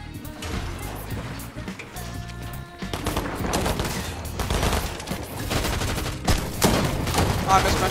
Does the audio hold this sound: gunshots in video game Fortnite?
yes